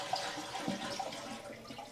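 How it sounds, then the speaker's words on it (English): A toilet flushed to drain its tank gives a steady rush of draining water through the whole two seconds. The sound is close and moderately loud, and no one talks. "So just flush out all the water that's in there."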